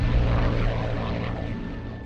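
Spitfire propeller aeroplane flying, a steady loud engine drone with a broad roaring hiss that slowly fades a little as it passes, with no voices.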